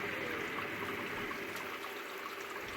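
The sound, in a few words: hot sparge water pouring into brewing kettle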